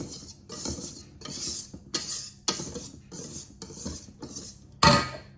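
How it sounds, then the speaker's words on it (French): Flour being stirred into cake batter in a bowl for a clementine Yule log, a series of soft scraping, rubbing strokes with a utensil against the bowl, about eight rhythmic passes, close and fairly quiet. "on va venir incorporer la farine au fur et à mesure. Pareil, mouvement circulaire."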